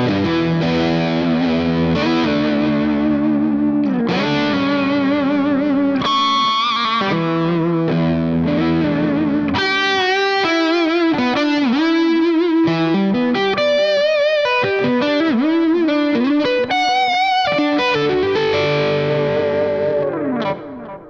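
An electric guitar runs through a BOSS JB-2 Angry Driver pedal with a honky mid-range, giving thick, overdriven chords and then busier lead lines with bends, loud and continuous with no talking.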